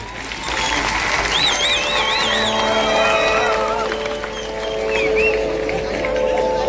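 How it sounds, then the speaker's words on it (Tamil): A crowd at an outdoor televised singing show event in Jaffna claps and cheers loudly and steadily. Whistles and excited voices rise above the dense applause. "ஒரு கைத்தட்டல் போடலாமா?"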